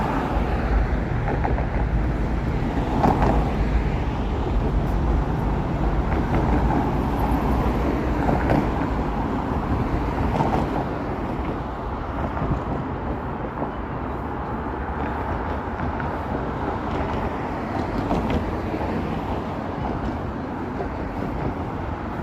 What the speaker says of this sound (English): these cars are noisy. Cars are just noisy.